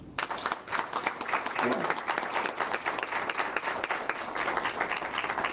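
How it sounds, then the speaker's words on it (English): Audience applause at a school Board of Education meeting, a dense roomful of clapping that stays steady from start to finish with some crowd noise mixed in. "I invite everyone to applaud and show their support for this incredible Board of Ed."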